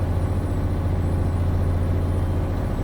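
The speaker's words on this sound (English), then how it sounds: "love the sound of this truck." A deep, steady truck engine drone in American Truck Simulator hums continuously at a constant pitch, close and moderately loud, with no talking.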